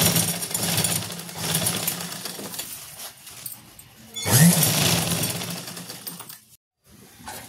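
Sewing machine running a straight stitch along the hem of an umbrella-style lehenga, a busy, fairly close mechanical rattle in sustained bursts that stops briefly near the end before starting again.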